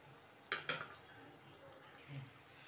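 Rice flour chips frying in hot oil give a faint, steady sizzle, broken early by two sharp clinks of a utensil against the pan, with no talk.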